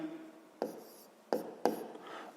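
A pen or pencil writes a math fraction by hand on paper, giving three short, quiet scratching strokes separated by pauses, with no talking.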